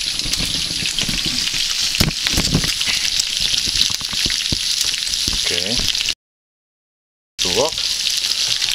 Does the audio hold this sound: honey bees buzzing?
no